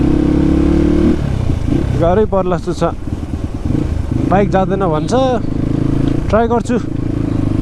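A motorcycle engine revs loudly and steadily in a snowbound traffic jam on the Kalinchowk offroad route, with someone talking over it in short bursts.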